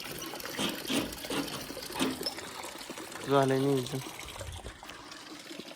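Water splashes and trickles steadily as a container fills with fresh water on a farm, with a few spoken words over it.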